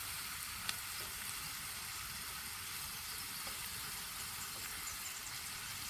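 Steak sizzling and frying on a Camp Chef Everest 2x camp stove outdoors, a steady, even hiss of hot fat crackling with faint pops throughout, close and alone.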